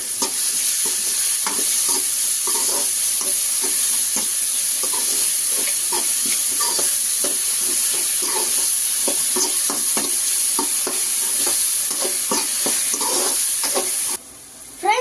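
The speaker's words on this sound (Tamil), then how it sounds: "இப்போ இஞ்சி பூண்டு அரைச்சு வச்சிருந்த பேஸ்ட் போட்டுக்கலாம். வதக்கி விட்டுக்கலாம்." Ginger garlic paste sautéing in a pan for fish sambar, giving a loud, continuous close-up sizzle with rapid irregular stirring scrapes and clicks throughout, cut off abruptly near the end.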